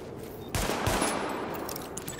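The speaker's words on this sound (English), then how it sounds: "Open fire at the highlighted targets." Weapons fire at highlighted targets during a weapon test in The Division, a video game, breaking out suddenly after a quiet moment as a close, rapid burst of shots that rings on briefly.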